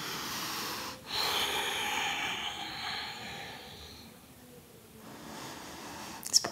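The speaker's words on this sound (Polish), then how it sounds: "Spokojny, długi oddech." Slow, deep breathing during a yoga hip stretch: a long, airy inhale and exhale close to the microphone, unhurried and steady, with a faint click at the end.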